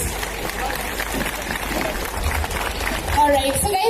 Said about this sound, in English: Can we give this wonderful event a big round of applause